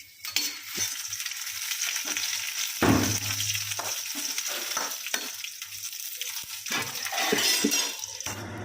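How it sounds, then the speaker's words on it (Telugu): Dried red chillies fry in hot oil in a pan for a coconut chutney, a steady close sizzle with scraping stirs and a louder hiss burst near the start, no talking. "లైట్గా వేయించుకోవాలి. ఇవి వేయించితే చాలండి."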